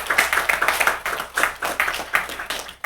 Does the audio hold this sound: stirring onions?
no